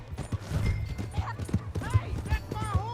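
A horse in the Red Dead Redemption 2 video game, with close hoof clip-clops and a brief whinny heard beneath shouting voices.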